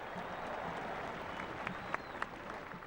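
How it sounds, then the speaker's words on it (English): A rain-soaked crowd at the final parade of the Royal Irish Regiment Home Service Battalions claps from a distance, a thin, steady patter of applause with a few sharper individual claps standing out near the end. "a huge round of applause from the people left here"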